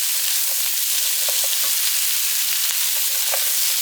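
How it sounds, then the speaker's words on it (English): Carrots, mushrooms and other vegetables sautéing in a pan for tofu teriyaki, a steady soft sizzle and crackle with scattered small pops, close and continuous, with no talking. "So let this saute for a couple of minutes."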